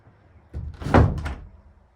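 A shed door being hung into place on its hinges gives a single solid wooden thunk and rattle, close and fairly loud, with quiet before and after.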